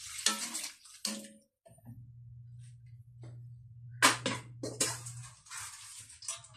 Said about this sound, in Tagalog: Lagyan natin tubig to par.